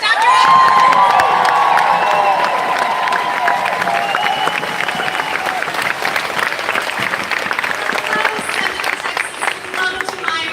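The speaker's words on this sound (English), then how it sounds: "Give her a round of applause" Crowd applause and cheering at a large protest at the Texas Capitol in Austin, dense sustained clapping with whoops, loud throughout.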